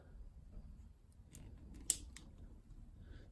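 Scissors snip once through a small piece of putty, a single sharp close click standing out over a quiet low room hum, with no talking.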